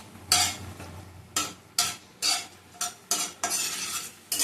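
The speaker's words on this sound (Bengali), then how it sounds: "তেজপাতা দিয়ে দিলাম, ভালো করে তেজপাতাটা ভেজে নেব।" Bay leaves frying in a pan while being stirred for a milk chicken dish, heard as bursts of scraping and sizzling strokes at an irregular rhythm, close and fairly loud, with no voices.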